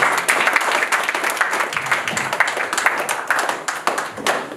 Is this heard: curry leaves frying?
no